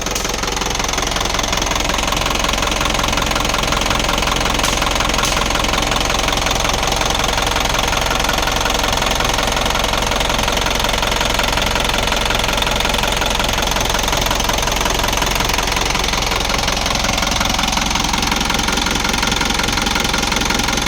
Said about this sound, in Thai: เป็นเครื่อง 4HG1 Turbo Power Air นะครับ